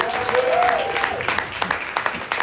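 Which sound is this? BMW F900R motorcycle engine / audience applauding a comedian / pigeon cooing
audience applauding a comedian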